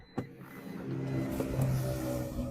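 A 2016 Maruti Suzuki Brezza VDi diesel car engine starting with a sharp crank, then settling into a steady mid-pitched idle hum, close and moderately quiet.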